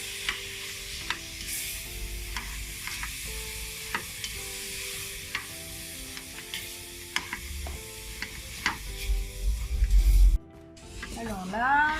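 A spoon stirring a coconut mixture with butter in a pan over the heat while it sizzles and dries, with soft repeated scrapes and a gentle frying hiss under occasional talking.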